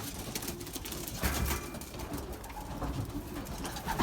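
Belgian racing pigeons coo softly and continuously inside their loft, a low murmuring chorus of several birds close by, with faint rustling throughout.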